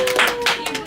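A short burst of audience hand clapping during a podcast recording, a few close claps over less than a second.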